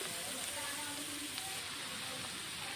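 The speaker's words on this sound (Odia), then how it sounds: "ଆମର ପିଆଜ ଭାଜି ହୋଇ ଆସିଲାଣି" Chopped onion sizzles and fries in a pan on a village kitchen stove, a soft, continuous crackling hiss that stays even and fairly quiet, with a faint voice underneath.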